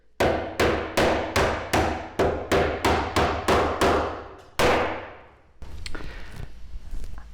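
Hammer striking nails out of a basement wooden joist, about a dozen loud ringing blows in a steady rhythm, then a pause followed by scraping and clattering.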